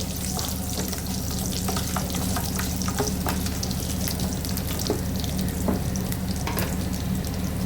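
Garlic cloves and spices frying lightly for a gravy, a constant bright sizzle with steady crackle and faint scraping of a spoon stirring in the pan.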